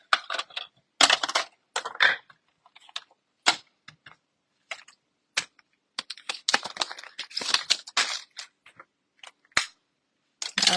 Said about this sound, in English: Grab my mini cut and emboss machine. And we're going to cut out these butterflies.